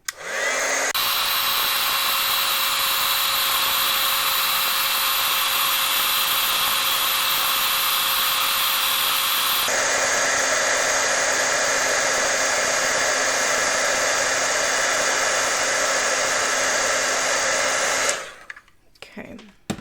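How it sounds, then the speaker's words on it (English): Embossing heat tool blowing continuously on a card, a loud steady high whir that shifts pitch once midway, then cuts off near the end. "So now I'm just going to set it with the heat tool."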